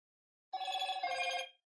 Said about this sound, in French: OK, la sonnerie fonctionne, elle est au maximum.